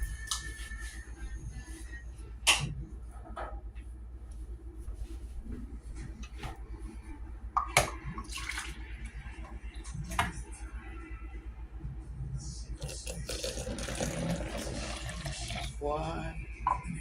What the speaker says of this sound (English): 2 cups of hot water.